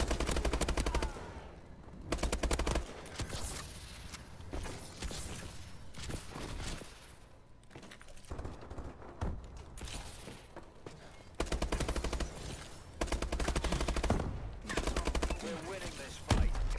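Rapid bursts of automatic gunfire from an online shooter game in assault mode, loud and repeated in clusters with short lulls between volleys, game effects and faint voices mixed underneath.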